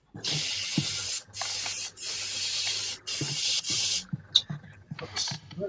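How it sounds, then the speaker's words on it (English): Bursts of airbrush spray hiss in short and long pulses separated by quiet gaps, close up, painting a Jagdpanther scale model, with faint clicks and handling noises between bursts. "I got carried away with spraying."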